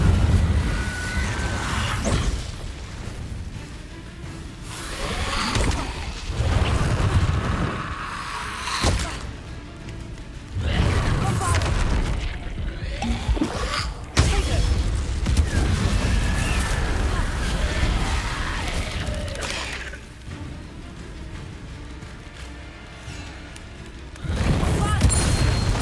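A fire spell is cast in Hogwarts Legacy, giving bursts of booming, crashing game effects with whooshes over about 26 seconds. The blasts come in loud surges with quieter gaps, and voices speak at times beneath the effects.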